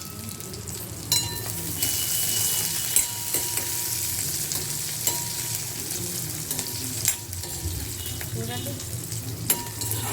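Chopped garlic and cumin seeds sizzle and fry steadily in a hot pan for a gongura chutney, with occasional scrapes and clinks as the spoon stirs, and a brief spoken word.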